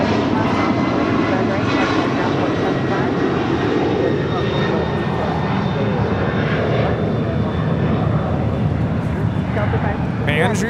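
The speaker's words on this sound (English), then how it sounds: "Their next departure is Delta 562 taking off to JFK on the 767-300ER." A Delta Boeing 767-300ER jet departs LAX for JFK, producing a loud, continuous engine roar that holds steady throughout, with faint radio-style talk underneath.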